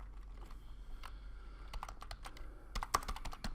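Keys on a computer keyboard tapped in scattered bursts, with sparse strokes early and a quicker flurry near the end, close up over a steady low hum.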